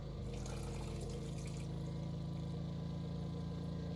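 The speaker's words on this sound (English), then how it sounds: "So I'm going to put some water in it" Water runs and splashes steadily into a cooking pot holding rice, a continuous pouring stream with a low hum underneath, no voices.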